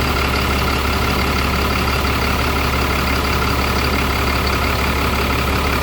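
A heavy bus engine idles steadily, a dense continuous low rumble with constant broadband noise, close and loud, no talking.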